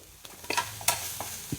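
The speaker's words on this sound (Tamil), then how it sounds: "இப்போ நம்ம சேர்த்துருக்க மிளகாத்தூளோட பச்சை வாசனை போகிற அளவுக்கு வதக்கிட்டு" Cluster beans being stirred for Tamil poriyal with chili powder, a few quiet scrapes and faint sizzles from the pan, close and soft, no talking.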